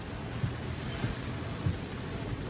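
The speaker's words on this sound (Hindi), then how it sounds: "इतनी बारिशें हुई हैं कराची में बहुत ज़बरदस्त" Heavy rain pours in Karachi, a dense, continuous hiss with low rumbling thuds, steady throughout and without voices.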